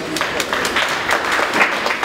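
Applause for Papa Griff at a public gathering, a steady broadband patter of clapping hands with scattered bursts, moderately loud and fairly close, mixed with crowd murmur and some speech.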